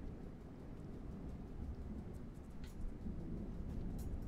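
Thunderstorm in the Rain World video game, a steady wash of low rumbling rain and wind with faint thunder swelling beneath, continuous and fairly quiet throughout.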